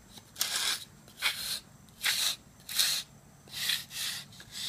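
Sandpaper of 60 grit rubbing along a wooden rudder spar in six slow, even strokes, each a soft raspy swish with brief pauses between, close and clear with no talking.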